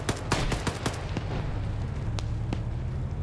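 Video game gunfire crackles in quick bursts of sharp shots near the start, then more isolated cracks over a steady low rumble of vehicles and battle noise.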